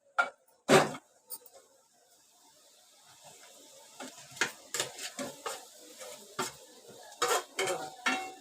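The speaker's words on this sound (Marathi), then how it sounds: "तू विरगळते तोपर्यंत मी ते गुळ टाकून देते" Jaggery going into a pan of melting ghee for sesame ladoos: a sharp clatter near the start, then a run of close scraping and tapping against the pan.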